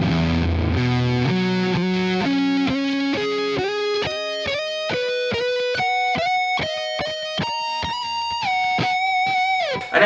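Distorted electric guitar runs a Lydian sequence of fifths, a rapid even stream of picked notes climbing steadily upward, loud and sustained throughout with no speech.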